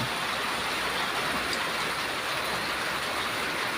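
Steady rain falls outside the front of a house in Thailand, a dense, even broadband hiss with no letup and no voices.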